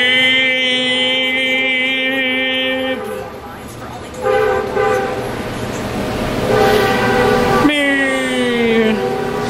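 A train passes close by, sounding a loud, sustained multi-tone horn in long blasts separated by rumbling rail noise, with a falling pitch on the final blast as it moves away; a voice is also heard briefly.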